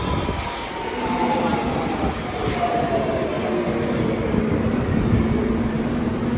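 A Budapest metro train pulls into the station with a steady rumble of rolling cars and a high, drawn-out squeal of wheels and brakes that holds near and loud throughout.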